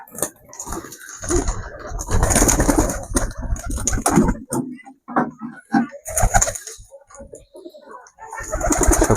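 Several pigeons coo softly in their loft, where a pair of chicks and fresh eggs sit, the murmuring calls coming in uneven bursts near the microphone alongside scattered clicks, rustling and intermittent talk.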